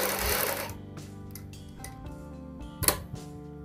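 A sewing machine stitches a ladies' coat collar, a short whirring run at the start followed by quieter mechanical ticks and a sharp clack near the end, close by.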